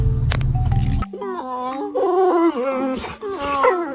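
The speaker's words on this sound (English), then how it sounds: "Great Danes are not desk dogs." A Great Dane lets out a drawn-out, wavering whimper and whine close by, rising and falling for several seconds after a short burst of other sound at the start.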